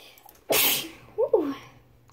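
A single sharp sneeze bursts out close by, followed a moment later by a short, quiet voiced sound.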